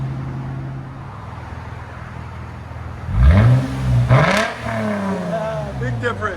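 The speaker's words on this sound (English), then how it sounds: "Go ahead and open the valves." A 2014 Lexus IS 250 with a 2.5L engine and Valvetronic mufflers idles with a low, steady drone. With the valves open it then revs hard twice in quick succession, with a rising, raspy roar close by, before settling back.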